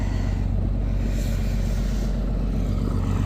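A feeder wagon tractor engine runs near and loud, a steady low rumble with a slight rise in revs and no talk.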